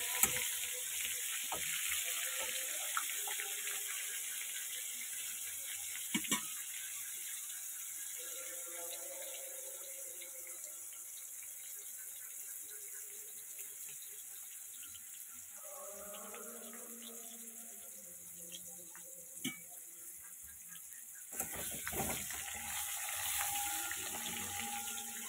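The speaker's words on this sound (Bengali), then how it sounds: "আলুটা একটু হালকা করে ভিজিয়ে নিয়ে হবে।" Tap water runs steadily into a sink to soak cut potatoes in a home kitchen, a continuous faint hiss and splash with occasional clinks, lasting throughout at moderate distance.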